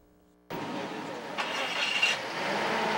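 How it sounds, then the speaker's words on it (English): Safety crews' vehicle engines start for a parade preparation, silence broken by a sudden loud ignition that settles into a steady running rumble with a short rise in revs. "As safety crews start their engines"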